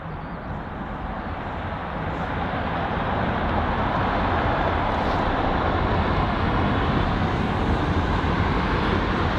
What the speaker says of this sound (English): so we've got a very loud 787 Dreamliner that's just arrived